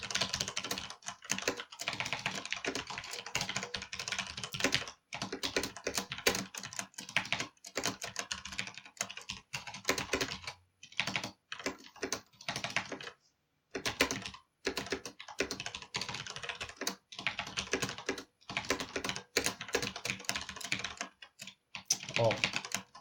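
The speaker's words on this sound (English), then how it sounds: "I have to type in some random numbers here." Rapid, continuous clatter of fingers typing random numbers on a computer keyboard, close and fairly steady with brief pauses between bursts of keystrokes.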